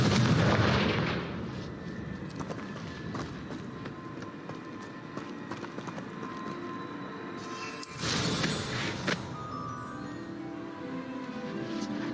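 The Confringo blasting spell fires in Hogwarts Legacy as heavy, booming blasts over a steady rumble of game ambience, with a sharp burst near the start and another around the middle.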